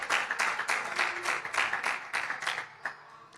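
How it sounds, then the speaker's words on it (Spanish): A church congregation claps during a Spanish-language worship service, with rhythmic, fairly even group clapping in steady pulses, moderately loud and fading slightly at the end. "Dele un aplauso al Señor."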